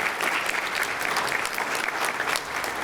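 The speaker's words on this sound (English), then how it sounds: "Let's give a round of applause to the Baton Rouge Symphony Orchestra." An audience applauds the Baton Rouge Symphony Orchestra at an annual association convention, steady dense clapping from a large crowd throughout.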